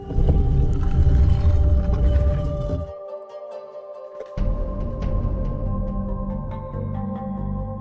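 Whale calls in a Riven video game puzzle, long low moaning tones with a steady harmonic drone, loud and alone, broken by a brief quiet gap before resuming.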